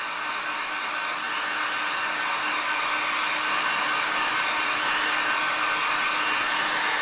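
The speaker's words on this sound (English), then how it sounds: "the heat gun, and it's going to dry really, really quick" A heat gun blows continuously at steady volume while drying paint on a pot, giving an unbroken, close, even roar of hot air with no pauses.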